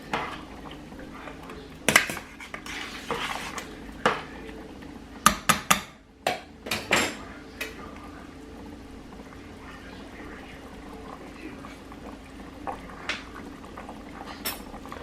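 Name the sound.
stirring beef and vegetable soup in a pot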